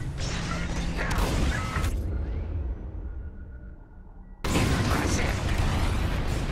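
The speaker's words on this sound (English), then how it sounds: "It's bombs away." Bombs exploding in the space combat video game Star Wars: Squadrons, a dense roaring blast that fades into rumbling, then an abrupt loud burst of further detonation, continuous and heavy.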